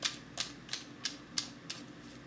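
Tarot and oracle cards shuffled by hand, giving six or seven crisp riffling bursts at a steady rhythm, close and fairly quiet with no voice over them.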